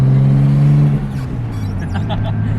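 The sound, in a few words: car turbo spooling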